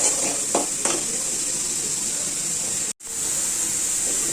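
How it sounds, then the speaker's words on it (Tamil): Onions and tomatoes sautéing in a pan for a fish kuzhambu, giving a steady close sizzle and hiss with a couple of soft stirring scrapes early on and a brief dropout near the end. "அதையும் போட்டு நல்லா வதக்கிடலாம்"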